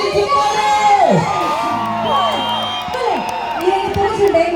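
A crowd at a public event in Vitla whoops and cheers loudly and continuously, with shouting voices rising over the din.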